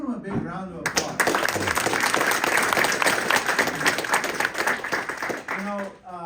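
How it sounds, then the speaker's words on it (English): A room of attendees at a Senate Office Building event on Uyghur rights applauds the chairman: a dense burst of clapping rises after a man's short remark, holds steady for several seconds, then fades as he resumes talking. "Give him a big round of applause."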